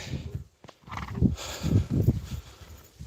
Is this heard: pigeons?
no